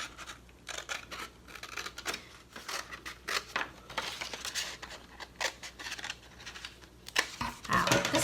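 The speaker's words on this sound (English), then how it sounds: "I find when I'm cutting out paper and I'm trying to be really accurate, sometimes it makes sense to turn my paper as I'm cutting." Scissors snip through paper close up in a steady series of short crisp cuts, with rustling as the paper is turned between cuts.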